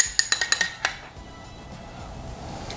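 A utensil strikes the side of a bowl in a quick run of five or six bright clinks, breaking up a separated egg yolk, then the tapping stops and only faint room noise remains.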